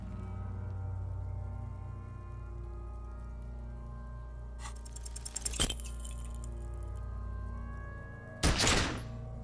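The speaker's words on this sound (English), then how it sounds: "A plume of smoke erupts from the barrel. Your hand goes numb from the explosion." A pistol fires in Disco Elysium: a sharp crack midway through, then a louder, heavier blast near the end, both standing out over a low, steady droning music bed.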